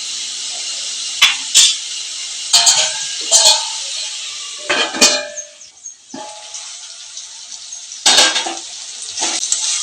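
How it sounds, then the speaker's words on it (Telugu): Onions and dried prawns cooking in a pan for a village-style curry, a steady soft sizzle punctuated by sharp metallic clinks and scrapes of a spoon stirring against the pan, close by. "ఇలా కొంచెంసేపు ఉల్లిపాయలు మగ్గనిద్దామండి."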